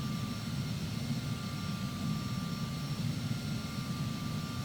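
Airliner cockpit ambience in Microsoft Flight Simulator X during pushback, a steady low engine drone with a constant hum and thin whine, unchanging throughout and no voices.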